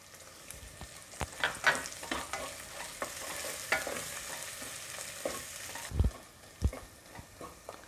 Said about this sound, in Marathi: आलं लसणाची पेस्ट घालूया आणि पुन्हा छान परतून घेऊया।